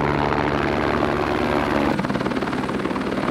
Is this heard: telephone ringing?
no